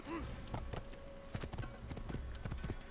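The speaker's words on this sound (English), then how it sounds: "OMG, horse. Stop jumping over everything and just go straight." Horse hooves clip-clop at a steady trot or gallop in the Assassin's Creed video game, a rhythmic series of close, fairly loud hoofbeats over game ambience, with a voice talking over them.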